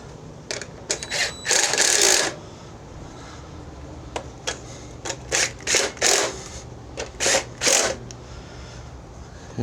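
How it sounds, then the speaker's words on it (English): Ratchet clicking in short bursts while turning the rear fasteners on a John Deere LA145 riding mower, a series of separate crisp ticking runs with brief pauses between, close up and with no talk. "The back two, you got to get it with a little ratchet."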